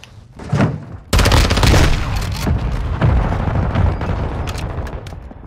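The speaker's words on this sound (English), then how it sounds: "Hostile mortar strike in the area." Mortar strike explosions in Modern Warfare 2 land as a loud sustained barrage of booms, a first blast followed by a heavy rolling burst of overlapping detonations and rumble.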